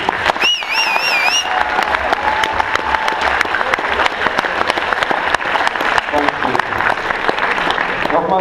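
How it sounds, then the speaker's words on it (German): Sustained audience applause at an integration evening event in Bottrop, steady dense clapping from a large crowd with a brief whistle-like tone early on, filling the whole stretch without speech. "Ein richtig großen Applaus nochmal für ihn."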